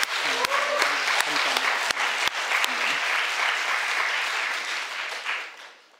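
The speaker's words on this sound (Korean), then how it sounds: "우리 감사의 박수 모든 분들에게" Church congregation applauding warmly, a steady wash of clapping from many hands that swells and then fades out near the end, with a brief spoken thanks over the start.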